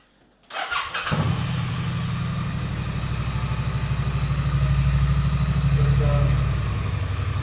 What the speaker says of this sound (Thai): เดี๋ยวสตาร์ท ขออนุญาตสตาร์ทนะครับ